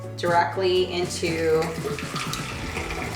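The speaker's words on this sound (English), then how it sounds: "So we're gonna pour this" Hot water pours in a steady, splashing stream into a French press while brewing coffee, running for a few seconds with a person talking over it.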